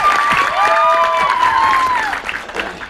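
An audience applauds loudly at a Gujarati film star-cast event, with dense clapping, cheering and whistles that fade toward the end.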